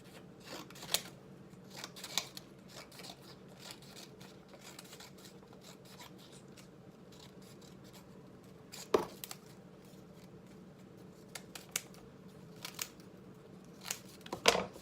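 Scissors snip through shredded paper for a craft centerpiece, giving short crisp cuts at irregular intervals, a few sharper louder snips among quieter rustling, close up with no talking.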